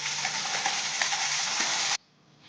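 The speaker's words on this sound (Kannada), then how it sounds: "ಎಣ್ಣೆ ಬಿಸಿಯಾದ ನಂತರ ಗ್ರೈಂಡ್ ಮಾಡಿರುವ ಗ್ರೇವಿಯನ್ನು ಇದರಲ್ಲಿ ಹಾಕೊಳ್ಳಿ" Ground paneer masala gravy sizzles and fries loudly in hot oil in a pan, a dense steady crackle that cuts off abruptly near the end.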